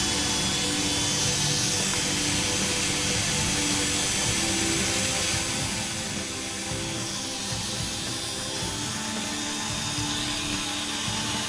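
A Dremel rotary tool shapes a sword blade with a dense, continuous grinding whine that stays loud and close throughout, its pitch shifting slightly as it presses against the workpiece.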